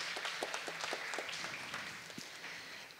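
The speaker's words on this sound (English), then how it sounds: "Give her again another applause." A panel audience at a reggae music industry discussion applauds a panelist, a dense burst of many hands clapping with sharper individual claps standing out, gradually thinning toward the end.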